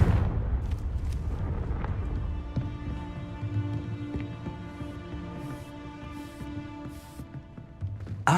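A Confringo explosion spell goes off in Hogwarts Legacy as a loud, rumbling blast that rolls on into a long, fading boom and ringing tail, with a sharp hit at the very end.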